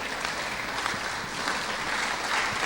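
Church congregation clapping loudly and cheering in acclaim, a dense, sustained wash of applause with faint voices mixed in.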